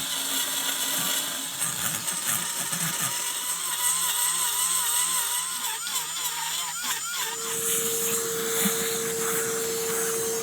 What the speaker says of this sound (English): I'm just gonna grind across here, see if we can expose any cracks that are just below the surface